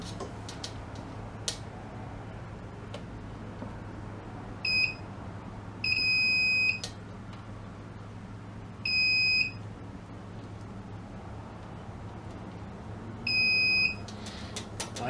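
Multimeter continuity tester beeping as it probes solder joints on a Pilot radio under restoration: four separate steady tones, each lasting about half a second to a second, spaced a few seconds apart over a low hum.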